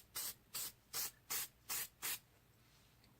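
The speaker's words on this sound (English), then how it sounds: "I'm just going to spray" Six short bursts of spray paint from an aerosol can, evenly spaced hissing puffs up close, each lasting about a third of a second, with quiet gaps between and no talking.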